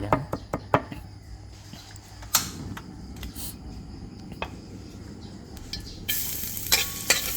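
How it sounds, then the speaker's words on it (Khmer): Garlic frying in a hot pan gives a soft, continuous sizzle, opened by a few sharp knocks and clinks of a utensil against the pan, with more scraping near the end. "តោះឡើយយើងដាក់ខ្ទះឲ្យក្តៅបងប្អូនបាទបំពងខ្ទឹមបាទវាឈ្ងុយមក"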